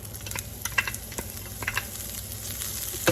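Pistachios, almonds and dry dates sauté in a pan for sheer khurma, giving a soft, steady sizzle with scattered crackles and light clicks of stirring, no voices.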